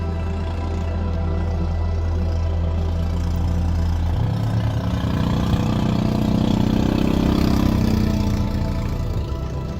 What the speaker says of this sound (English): Trying to figure out what was wrong with the engine.